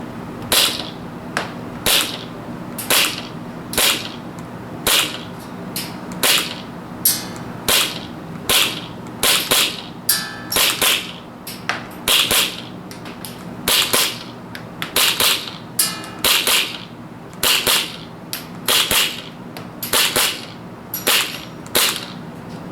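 A KWA KMP9 gas blowback airsoft SMG fires 0.3 g BBs outdoors in a long run of sharp, loud cracking shots, mostly single and double pops with short pauses, some quick bursts, and no talking.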